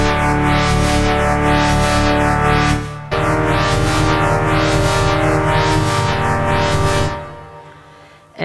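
An Arturia PolyBrute synthesizer patch with synced LFO modulation sounds a loud, sustained, buzzy chord whose filter sweeps up and down in a steady repeating cycle. The chord shifts once midway and then fades out.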